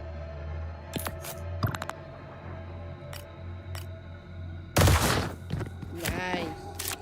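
Burst-fire gunshots in a video game: a few sharp clusters of shots at moderate distance over steady game ambience, with one louder, denser burst near the end.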